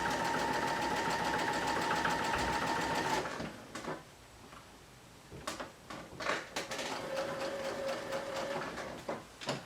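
A sewing machine hems the folded watch opening on a Whistler sweater, running in a steady three-second burst, then pausing before several short stop-start stitching runs close up.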